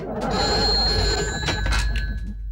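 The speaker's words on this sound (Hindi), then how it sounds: "मैं प्रिया को फोन करता हूँ।" A telephone rings with a steady electronic tone, sustained and fairly loud, while dull thumps and rustling noise continue underneath.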